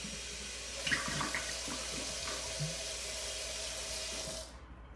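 Running water rinsing a glass bottle, a steady close splash and trickle that holds for several seconds and then cuts off abruptly at the end.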